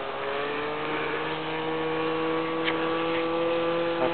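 A radio-controlled P-51 model airplane's engine drones steadily through a low pass, a close, buzzing tone with strong harmonics holding nearly constant pitch throughout, with no voices over it.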